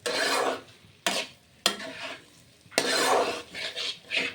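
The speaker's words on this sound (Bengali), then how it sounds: "খুব ভালো করে নেড়ে চেড়ে ডালগুলো আমি মশলার সঙ্গে ভেজে নিচ্ছি" Lentils are stirred and dry-fried with spices in a pan, giving close, rough scraping strokes in irregular bursts with short pauses between them.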